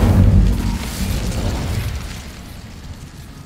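A fiery burst from the Incendio spell in Hogwarts Legacy, a heavy whooshing boom at the start that rumbles and then fades away over a few seconds, alone and loud.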